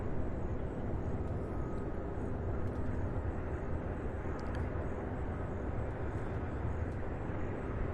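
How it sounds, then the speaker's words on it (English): An MD-11 jet taxiing and making a turn at Louisville airport, a steady, fairly distant engine drone humming evenly throughout with faint higher whines on top. "that MD-11 making that turn"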